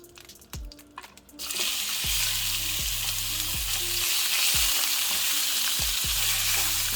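Shrimp dropped into a hot pan for a sausage and shrimp quiche, a sudden loud frying sizzle rising after a moment and continuing steadily, with repeated low knocks of a utensil underneath.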